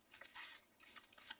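Scissors snip through card around an Easter egg shape in quick, light, close cuts, several short strokes in a row, quiet and unaccompanied.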